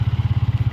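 A motorbike's engine idling as the rider takes it out, a loud, close, steady low chugging pulse throughout a brief moment.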